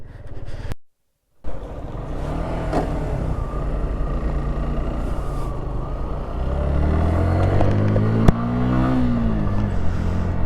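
A motorbike ridden through thick fog: a steady engine rumble with wind buffeting, close and continuous, briefly cutting out near the start, then rising slightly as the engine revs later on.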